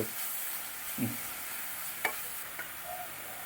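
Coriander powder and spices being stirred with a teaspoon in a frying pan for tomato curry; a steady sizzle runs throughout, with a few short scrapes of the spoon against the pan, close and alone.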